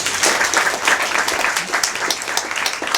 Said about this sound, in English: Could we please give another big round of applause for all of our athletes up here on the stage.